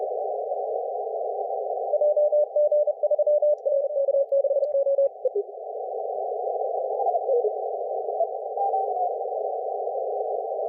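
Continuous HF amateur radio CW Morse code during a contest, a single steady mid-pitched tone keyed in quick bursts of dots and dashes, clear and alone with a faint hiss.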